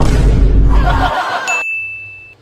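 A phone in a home during a family comedy sketch gives out a single steady electronic ringing tone. It starts right after a burst of voices and laughter and holds on alone until the end.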